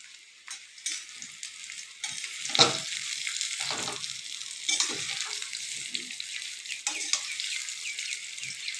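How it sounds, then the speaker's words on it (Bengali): Cut mango pieces sizzle and crackle in a hot pan while being stirred for pickle in a village kitchen, a steady hiss broken by scraping and clattering stirs. "কেটে নেওয়া আমের ফলাগুলো এখন দিতেছি এখন নেড়ে নিব"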